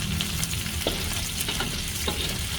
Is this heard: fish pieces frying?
yes